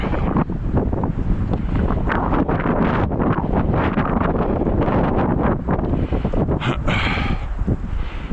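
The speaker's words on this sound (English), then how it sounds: "A little breezy today." Steady wind buffeting a microphone, a constant low rumble and roar with gusty flutter throughout, no speech.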